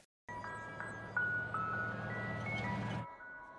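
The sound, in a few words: ice cream truck approaching in the film Legion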